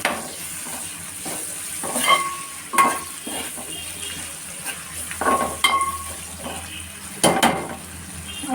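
Onions with ginger-garlic paste frying in a pan, a steady sizzle broken by repeated spatula stirs and scrapes against the metal, close and moderately loud with no talking.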